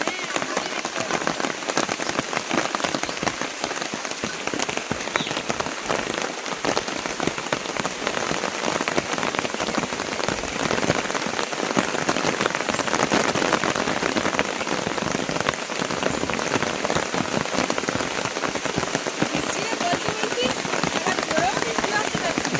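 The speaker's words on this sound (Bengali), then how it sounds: "ভালোই জোরে বৃষ্টি শুরু হয়েছে।" Heavy rain pouring steadily outdoors beside a pond, a dense continuous hiss of drops hitting surfaces that stays loud and unbroken throughout, with no distinct voices standing out.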